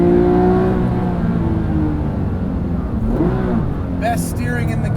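A Porsche 997 GT3 RS 4.0 engine holds a loud, continuous howl from inside the car, sliding down in pitch through a corner and then climbing again.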